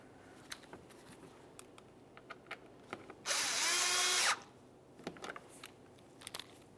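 A power drill drives a Phillips head screw into a plate bracket on the front bumper cover of a 2003-2007 Honda Accord, one loud steady whir lasting about a second amid scattered light clicks and handling noises.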